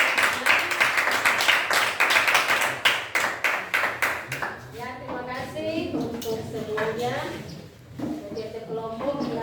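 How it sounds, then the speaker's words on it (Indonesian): Classroom applause from students after a group presentation, a quick burst of many hands clapping for about five seconds, then fading as a teacher's voice takes over. "Kita tepuk tangan dulu."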